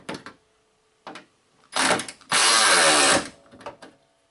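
A Snap-on ratchet tightens a bolt in a few short whirring bursts, then a longer, loud sustained run and a couple of brief clicks near the end. No one speaks.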